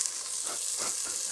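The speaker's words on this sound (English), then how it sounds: "We'll take a bit of heat out of the pan and get our onions in." Onions go into a hot pan for a rabbit arrabbiata and sizzle, a brief steady hiss heard up close without any talking.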